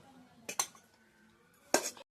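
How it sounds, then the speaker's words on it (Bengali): A few clinks and scrapes of a utensil against a pot while serving rice, two quick knocks, a quiet pause, then another scraping clatter. "তোমার ভাত বাড়ছি দেখো"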